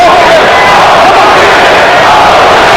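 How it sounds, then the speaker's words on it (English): A packed boxing arena crowd chants for Holyfield during the 12th round against Lennox Lewis. It gives a loud, continuous roar of massed voices with a rhythmic chanting swell, heavily saturated and close. "Crowd trying to chant Holyfield into yet another of his dramatic career moments."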